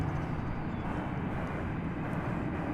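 An airliner, Flight 13 from Auckland, rumbles at DFW Airport in a steady, continuous broad roar with no voices over it.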